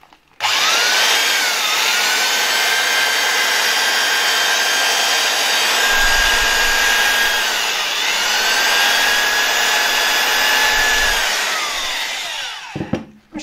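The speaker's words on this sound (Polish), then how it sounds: "Myślę, że całkiem fajnie działa ta wiertareczka." An old East German VEB Sebnitz BM 10/1 electric drill with a freshly replaced cord guard runs steadily for about twelve seconds, a loud, close whine that dips briefly midway and then winds down, with no talk.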